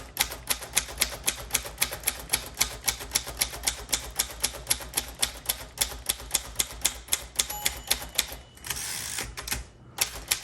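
Rapid typing on a 1946 Royal Quiet Deluxe typewriter: steady, loud keystroke clacks in quick rhythm, with a carriage-end bell ring and return near the close, no voices.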